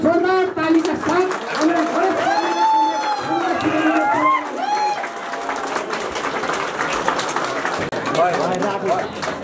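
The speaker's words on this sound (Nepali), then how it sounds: "यहाँहरूले जोरदार तालीका साथ" A crowd at a wedding ceremony claps, dense applause and cheering running throughout, with voices and excited shouts mixed in.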